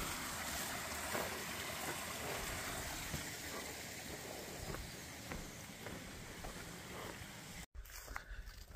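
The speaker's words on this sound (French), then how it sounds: "Le petit ruisseau là pour se mouiller." Small stream flowing on a hot summer hike near Forcalquier, a faint, steady wash of trickling water with a few soft knocks or footsteps, ending after a brief dropout.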